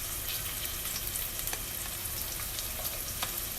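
Garlic added to a hot pan for chicken Bicol Express sizzles in a steady, close hiss, dotted with small sharp crackles and pops throughout.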